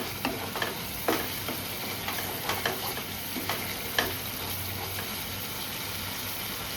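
Spices for a vegetarian paneer curry sizzle steadily in a hot pan while a spoon stirs them, scraping and knocking against the metal in irregular taps over a continuous frying hiss.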